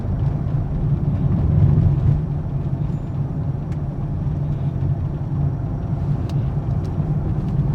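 Car engine rising to a steady rev as the accelerator is pressed during a learner's driving lesson, a close, continuous low rumble that swells briefly early on and then holds level.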